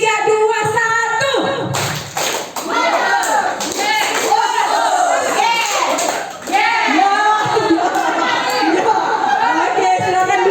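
A seated group in a classroom or training session claps together in counted rhythmic patterns, many hands striking in short synchronized bursts, loud and close, with a voice leading and some chatter mixed in.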